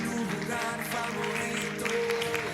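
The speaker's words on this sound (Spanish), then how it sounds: "Dale un aplauso fuerte al Señor." Steady applause from a church congregation, with music playing under the clapping throughout, moderately loud and continuous.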